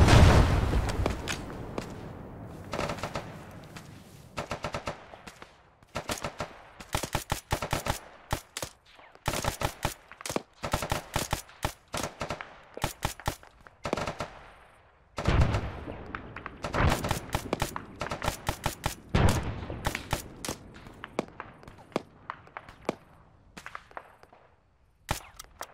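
Sustained gunfire in the video game Arma III, with rapid bursts and single sharp shots repeating in clusters across the whole stretch, loud and close with short gaps between volleys.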